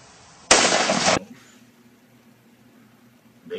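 A single sharp gunshot from a handgun with a light 3.5 pound trigger, loud and close, its blast lasting over half a second before dying into quiet outdoor air.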